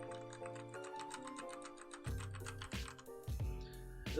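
Rapid, soft mechanical keyboard clicks with red switches on a G-Lab Rubidium keyboard, tapping along steadily at close range, light and muted, with a busier burst of keystrokes toward the end.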